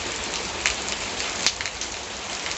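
Heavy rain with big drops pours down steadily, a dense, continuous patter on surfaces close by, with a few sharper splashes standing out; no one speaks.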